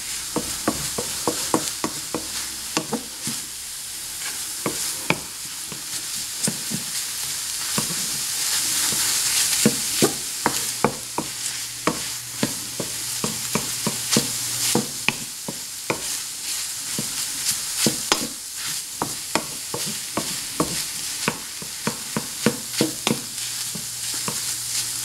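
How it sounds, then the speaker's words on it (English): A ham and egg scramble fries in a pan while a utensil stirs it constantly, giving a long run of sharp rhythmic scrapes and taps over a steady sizzle, close and fairly loud, with no talking. "you don't want to burn the egg, so you have to keep it moving"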